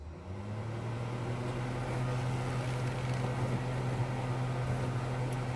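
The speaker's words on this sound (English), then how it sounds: "Now I'm going to turn on the hood fan." A stove hood fan in an RV spins up and keeps running as a steady, close motor hum with a low tonal drone and broadband airy whoosh.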